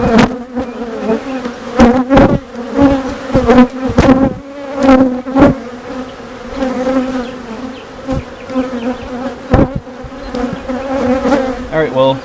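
Honeybees drone loudly and continuously at close range during a routine hive inspection, a dense steady buzz with frequent sharp knocks and clunks from hive frames being handled.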